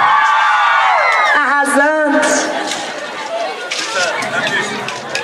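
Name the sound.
women in the crowd shouting and whooping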